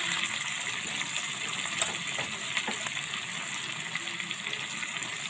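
Dal pours into hot tempering in a pot, a continuous close sizzling gush with small crackles and splatters running steadily throughout, no voices present.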